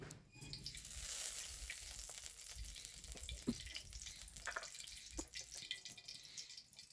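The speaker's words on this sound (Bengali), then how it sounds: "কড়াই গরম হয়ে গেছে, তেল দিয়ে দিলাম।" Oil hits a hot kadai that has just fried a rohu fish head, giving a faint, steady sizzle with scattered small crackles and pops, close but quiet, with no talking.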